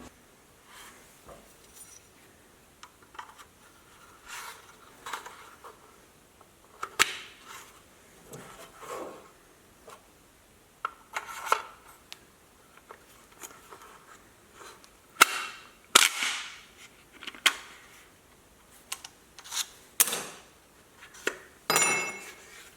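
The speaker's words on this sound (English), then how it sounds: "we're able to push down and send all these rounds right into the magazine" Rifle rounds pushed from a loaded stripper clip down into a magazine, a series of crisp metallic clicks and clinks at an uneven pace, close and fairly loud, with no talking.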